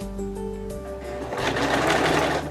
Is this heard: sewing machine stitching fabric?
yes